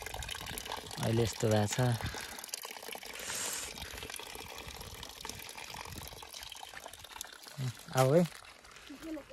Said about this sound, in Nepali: तुरुरु भएको छ बिचरा चौराको धारो